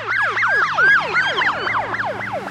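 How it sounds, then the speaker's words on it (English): An emergency vehicle siren wails in a fast, repeating up-and-down sweep, loud and steady, its pitch shifting as it passes. "the Doppler effect of a siren passing you"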